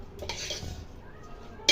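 Soft scraping and clinking of a utensil in a pan as vegetables are mixed with pepper, salt and sugar for vegetarian fried rice, a few quiet strokes ending in one sharper metallic tap.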